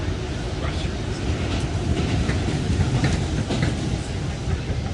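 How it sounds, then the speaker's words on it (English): Southbound Brooklyn-bound New York subway train rumbling steadily through a closed tunnel, a loud continuous roar with faint rhythmic clatter throughout. "This particular one is, I believe, a Brooklyn-bound subway. It's definitely a southbound subway."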